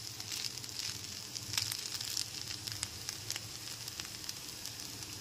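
Chicken fried rice in a pan over a gas flame produces a quiet, continuous sizzle with scattered small crackles and pops.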